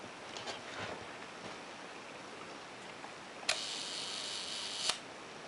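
Rolleicord camera shutter set to a one-second speed: a click opens it, a faint whirring buzz runs for about a second and a half, then a second click closes it, over quiet outdoor background.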